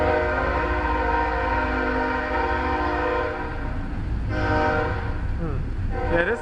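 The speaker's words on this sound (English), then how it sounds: "There go the train right there." A train passes on a rainy day, sounding a long loud multi-tone horn that holds for several seconds, with a second horn blast near the end over the low rumble of the cars, and someone talks briefly.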